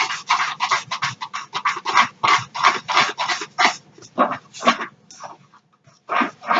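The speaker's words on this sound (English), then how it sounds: "get a fork and mix this all in" A fork whisks through thick dog treat batter made with olive oil in a bowl, giving rapid, rhythmic scraping strokes close up, with brief pauses toward the end.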